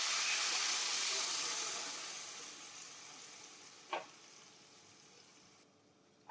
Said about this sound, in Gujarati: હવે આ વઘારમાં આપણે પાણી નાખી દેવાનું છે